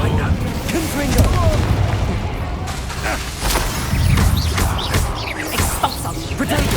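Spell explosions and blasts from combat in the video game Hogwarts Legacy, a dense run of booming impacts and crashing bursts layered with game effects, loud and continuous with a voice speaking over the action.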